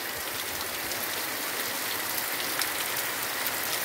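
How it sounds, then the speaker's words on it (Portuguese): A close, unbroken roar of heavy rain pounds down in rural Itabaiana, Sergipe, the downpour holding a constant loud hiss throughout, with nobody speaking. "olha a chuva caindo com força pro lado de cá hoje"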